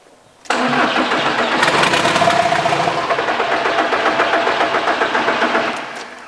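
A Volkswagen diesel engine cranks briefly, then catches and starts, settling into a loud, rough, slightly knocking idle that runs steadily for several seconds, close up with no talking.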